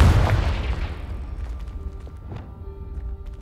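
A Confringo blasting spell explodes in Hogwarts Legacy with a heavy booming burst up front that rolls into a long, fading rumble with faint crackling debris.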